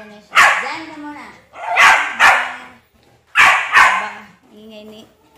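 Dog named Priya barking close and loud, about five sharp yelping barks in pairs with whiny tails, a fainter yip at the end.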